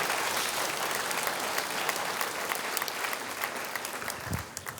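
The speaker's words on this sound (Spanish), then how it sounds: "Dile un aplauso fuerte al Señor." A church congregation claps together during a Sunday morning service, producing a steady, dense burst of applause that fills the room at near-constant loudness for several seconds before easing slightly at the end.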